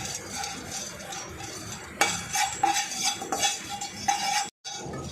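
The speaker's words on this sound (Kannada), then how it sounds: "ಇವಾಗ ಲವಂಗ ಕೂಡ ಹುರ್ಕೋಬೇಕು ನಿಧಾನಕ್ಕೆ" Cloves being dry-roasted slowly in a pan for a Brahmin-style huli powder, with a utensil scraping and stirring in repeated clattery strokes, fairly close and briefly dropping to silence near the end.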